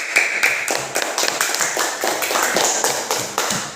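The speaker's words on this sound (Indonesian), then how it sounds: "Tepuk tangan." A classroom group claps in a steady, rhythmic burst. The hand claps are close and fairly loud and hold at an even level throughout.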